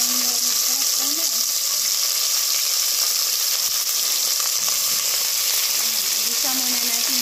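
Pork ribs fry in a pan with onion and garlic, giving a loud, steady, close hiss of oil sizzling throughout, with a faint voice briefly underneath.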